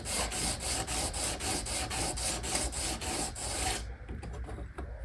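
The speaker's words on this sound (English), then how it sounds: "polish off any of this burr that's left over from the file and the sharpening" A steel edge rubs on a sharpening stone to polish off a leftover burr, producing a fast, even run of close rasping passes that stops abruptly, leaving a few faint scrapes.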